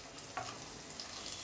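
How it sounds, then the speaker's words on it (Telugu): Green chillies frying in a pan of oil for egg fried rice, a steady low sizzle with a faint stir or clink partway through, no voices. "ఈ పచ్చిమిర్చి కూడా ఒక నిమిషం పాటు వేగనివ్వాలి।"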